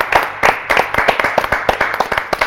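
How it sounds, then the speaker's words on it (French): A TV show studio audience claps together in a steady rhythmic beat, sharp close hand claps repeating at a brisk even tempo with no talk over them. "Est-ce qu'on s'applaudit ensemble, tous ensemble?"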